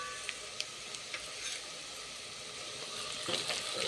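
Grated coconut and ginger garlic paste frying in a pan for village-style aloo kurma, a steady soft sizzle throughout with a few small ticks and clinks near the start and a slight rise toward the end.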